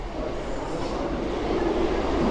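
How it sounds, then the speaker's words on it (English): A mainline train passes close by near the Guinness brewery at St James's Gate in Dublin, a steady, loud, broadband rolling rumble that holds throughout with no voices. "That's a mainline train gone past."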